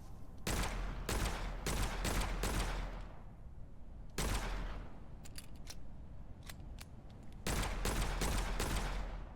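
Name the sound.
Hunger weapon firing in video game Witchfire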